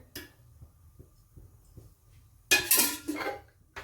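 A metal kadhai is set down on a gas stove with soft, faint taps of oil going in, followed by a louder clatter of the pan and utensils near the end.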